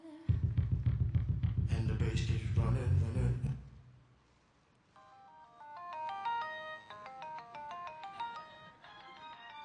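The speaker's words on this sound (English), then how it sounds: "So I've got a call, so let me answer the call." An iPod nano-era mobile phone ringtone for an incoming call during a 2005 Apple keynote: a loud melodic ring over music that cuts off, then a fainter repeating tone pattern returns.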